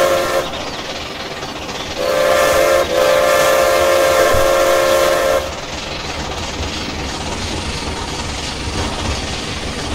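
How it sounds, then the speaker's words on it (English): A steam locomotive, an E-2 4-6-0 in the game Trainz 2019, chuffs rhythmically in a continuous loop, with a loud steam whistle blowing for several seconds in the middle. "I don't like that chuff sound."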